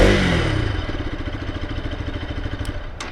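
A 2024 Bajaj Pulsar RS 200 motorcycle revs up close, its engine note swelling and pulsing with a steady throaty rumble and crackling exhaust, loud throughout with no voices over it.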